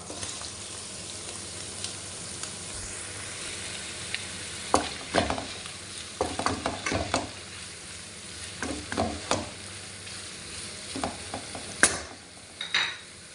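Fried beef is returned to a pan of mushrooms for a beef and broccoli stir-fry, with a constant soft sizzle under repeated clattering scrapes and taps of a spatula, close and moderately loud, no talk.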